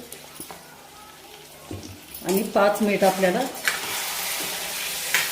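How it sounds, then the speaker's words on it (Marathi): Water splashed into a hot kadhai while cooking mutton rassa: a quiet start, then a sudden loud burst of crackling sizzle that settles into a steady hiss, with someone talking over it. "थोडंसं ही कढई जी आपण शिजवून घेतली होती ती कढई विसळून थोडंसं पाणी टाकते"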